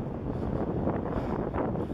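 Wind buffets the microphone outdoors on a street in Moscow, Russia, in continuous low, rough gusts, swelling and easing without a break.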